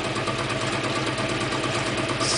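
Small hydro-electric turbine driven by water from a sink faucet, spinning with a steady whirring buzz and running water hiss, close and constant for a few seconds without talk.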